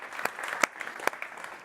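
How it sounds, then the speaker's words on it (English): An audience at the CogX 2018 technology conference applauds steadily with scattered sharper individual claps, sounding somewhat distant and moderately quiet, with no talking over it. "We're going to have a round of applause for that."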